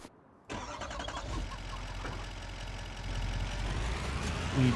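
A truck engine in Farming Simulator 25 starts and settles into a steady, low, continuous idle-like rumble that swells slightly toward the end.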